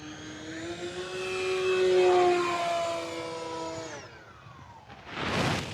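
An E-flite Beechcraft D18 twin-engine RC model plane flies a fast pass, its electric motors giving a whining tone that rises, holds loud near the middle, then drops away as it passes, followed by a brief gust of noise.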